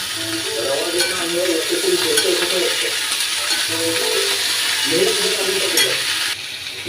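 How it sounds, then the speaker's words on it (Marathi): Washed beans being stirred into a hot pan for a simple Marathi bean stir-fry, with a steady loud sizzle and scraping spoon strokes throughout, close up. "आता आपण धुतलेले बीन्स टाकून घेऊ आणि मिक्स करून घेऊ"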